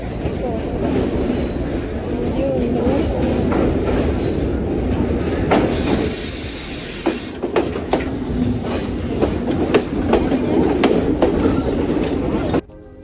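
A train rumbles and clatters through a railway station, with wheel screeches and metallic clicks rising midway, and faint voices in the background.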